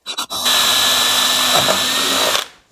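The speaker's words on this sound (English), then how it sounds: "let the weight of the drill take it through, because the fiberglass itself cuts very easily" A power drill bores through a fiberglass body panel on an Ultima RS car: a few short stuttering starts, then a loud, steady high motor whine for about two seconds that cuts off abruptly.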